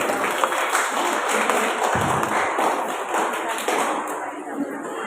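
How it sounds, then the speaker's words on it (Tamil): An audience claps in thanks at a wedding, a dense steady patter of hands, with some voices blending into the applause. "கைத்தட்டி நன்றி செலுத்தும்."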